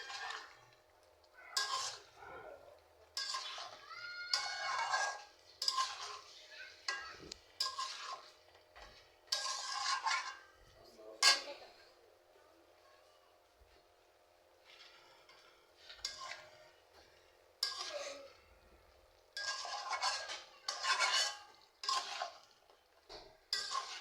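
A utensil stirs fried potatoes, cauliflower and beans in a pan, producing repeated scraping and clinking strokes in short bursts with pauses, fairly quiet and close, with no talking.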